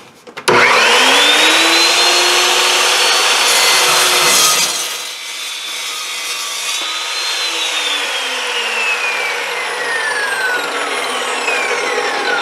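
A saw cuts notches into an 8 inch piece of steel bar stock, loud and close, with a rising then falling metallic whine and grinding rasp that drops in level partway through and continues.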